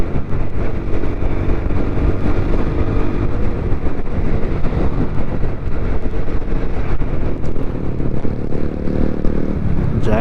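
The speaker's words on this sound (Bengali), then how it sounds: "মাথা নষ্ট করে দেওয়ার মতো এক্সস্ট।" Motorcycle exhaust rumbling steadily while riding along the Chattogram to Kaptai road, a continuous low engine drone with wind buffeting the microphone.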